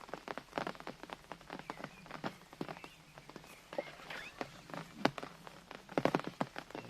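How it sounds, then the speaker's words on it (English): Light rain patters irregularly on surfaces in a house garden, scattered soft taps with a faint, quiet outdoor background. "you can see it's raining"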